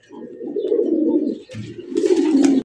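Large sky-blue gola fancy pigeons cooing close by, two bursts of low throaty coos with a brief pause between them and some rustling noise in the second half.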